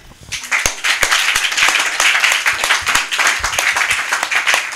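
A church congregation claps and applauds in a dense, sustained burst of many hands, loud and close, with sharp individual claps standing out through the steady roar.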